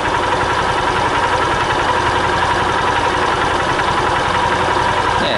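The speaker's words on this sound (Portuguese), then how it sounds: "vou soltar agora, deixar na marcha lenta" Honda Titan 150 fuel-injected motorcycle engine idling, a loud, close, steady mechanical chug with rapid even pulses and no change in pace.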